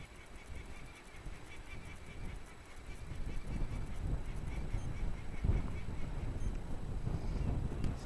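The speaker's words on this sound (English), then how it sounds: "These birds are driving me nuts." Birds honking near the shore of Noble Island, with scattered, fairly faint calls set against a rough, windy outdoor background that grows busier toward the end.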